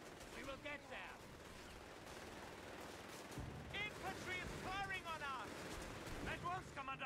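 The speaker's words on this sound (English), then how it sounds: "Infantry is firing on us." Infantry gunfire in Company of Heroes 3, faint crackling shots and distant rattles running under several voices shouting and talking over battlefield ambience.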